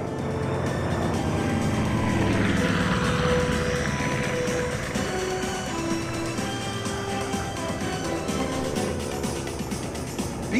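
A vintage warplane, a B-40 from the Texas Flying Legends Museum, flies past at the Nellis AFB air show, its steady engine drone loud and continuous against a broad wash of crowd and wind noise.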